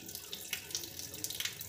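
Water runs steadily from a kitchen tap over chhena being drained, a continuous splashing hiss with small gurgling bursts, fairly close and alone.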